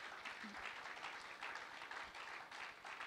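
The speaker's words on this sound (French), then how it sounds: "Est-ce qu'on peut applaudir l'interprète?" A church audience at an Église de Dieu seminar in Liège claps steadily for an interpreter, dense, sustained applause filling the room for the whole few seconds.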